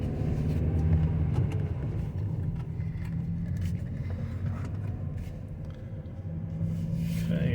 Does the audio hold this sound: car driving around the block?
yes